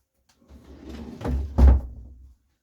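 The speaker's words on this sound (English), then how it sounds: "I'm going to shut that door again." A door is shut in a home, heard as a short creak and shuffle building up to one firm, close thump, then quickly going quiet.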